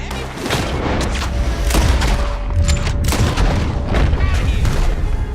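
Heavy gunfire from the video game Red Dead Redemption 2 fills the scene, a loud rapid volley of overlapping shots and booms that continues almost without pause, with brief voices mixed underneath.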